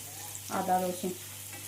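Finely chopped ginger and garlic fry in oil in a pan for palak paneer, a soft, close sizzle over a low hum, with a short burst of voice in the middle.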